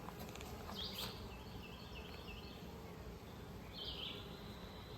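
Honey bees buzz softly around an open beehive, a faint steady drone with a few closer fly-bys passing the microphone.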